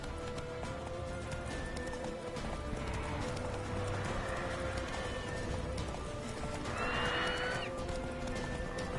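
Horse hooves clip-clop at a steady gallop in The Witcher 3, with occasional neighs and whinnies over constant ambient background, the rhythmic hoofbeats continuing throughout.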